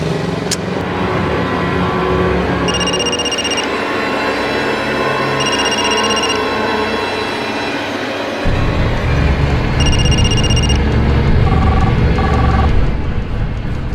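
A phone rings in repeated electronic bursts over a constant engine-like rumble, the tone sounding a few times at regular intervals.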